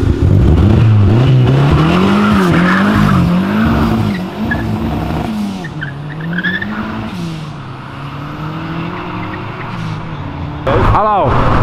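Cars leaving a car event in Brazil, one an Evo Clio, with engines revving loudly and tires squealing in long wavering bursts, then a sharp rising screech near the end, under excited voices.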